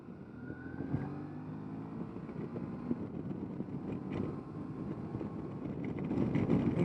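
A 2017 Suzuki V-Strom 650 motorcycle accelerates while riding, engine drone rising in pitch under steady wind rush at the microphone, fairly quiet overall and swelling toward the end.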